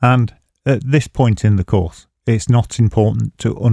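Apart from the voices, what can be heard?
No distinct noise like a dog, phone or traffic.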